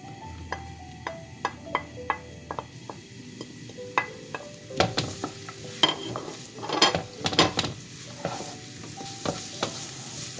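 Chopped onion sautéing in olive oil in a frying pan on the stove, a soft sizzle with a run of light spatula taps and scrapes, then louder clattering stirs near the middle, close up and without speech.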